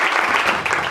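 A short burst of dense applause from a group, clapping for a student who passed the CHSL exam on the first attempt, steady and fairly loud with no talk over it.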